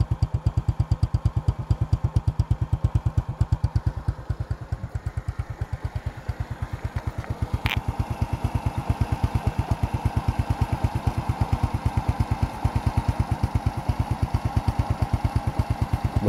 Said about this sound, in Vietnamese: Xe đang nổ máy.